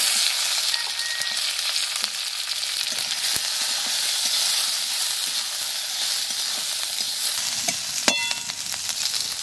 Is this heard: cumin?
yes